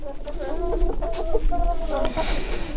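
A huge Brahma rooster and his hens cluck nearby in a garden, giving a steady stream of short, repeated clucks.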